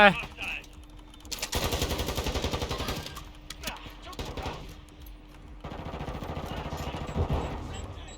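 Automatic gunfire in Warzone 2.0, long rapid bursts of shots broken by short pauses, loud and close, with players talking over the shooting.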